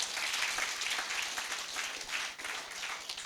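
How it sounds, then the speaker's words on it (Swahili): Crowd applause for the elders at a church gathering in Kenya: dense, steady clapping from many hands, sustained throughout with no break. "Hebu tumpigie makofi ingine"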